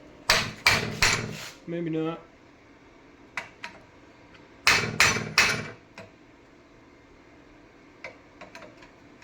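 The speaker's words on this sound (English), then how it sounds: "I could just get a hammer and tap that and it would fall through" Hammer tapping a plasma-cut metal piece to knock it free of the slag, quick bursts of three sharp metallic strikes, a pause, then another cluster of taps, with a brief spoken remark between them.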